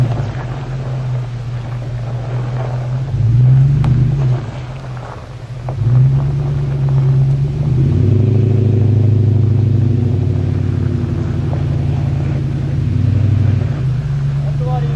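A Jeep engine drones steadily while driving off-road in two-wheel drive at a forest campsite, its low rumble rising and falling in pitch with throttle changes, joined by wind buffeting and voices talking over it.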